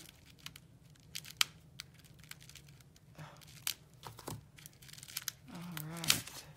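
A package being cut open, with quiet crinkling and tearing of plastic or paper wrapping, scattered snips and rustles, close and faint, with brief voice sounds near the end.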